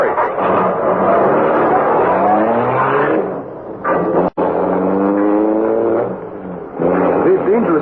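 A car in an old-time radio crime drama roars off in pursuit of a fleeing car. Its engine revs and surges steadily, loud and close, with a brief sharp break midway.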